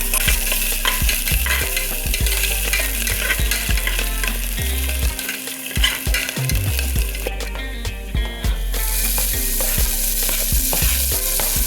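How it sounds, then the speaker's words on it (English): Chili pepper and garlic fry in a pan for khichdi, a dense continuous sizzle with frequent rapid clinks and scrapes of stirring, loud and close throughout, briefly dipping midway before the hiss resumes, with no talking. "So now we will add the chili pepper and garlic."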